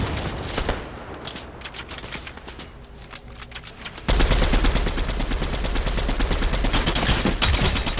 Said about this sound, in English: I'm getting shot at from somewhere else.